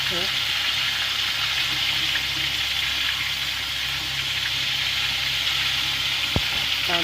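Besan-coated lote fish frying in hot oil in a kadai after being turned over, a loud, even, continuous sizzle close by, with one sharp knock late on.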